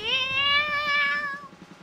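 A cat in the game Neko no Kaerimichi gives one clear, drawn-out meow that bends in pitch and fades after about a second and a half, close and alone.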